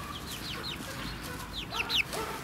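Chickens and a rooster cluck and chirp steadily while roaming on grass inside a greenhouse, with a few louder calls near the end.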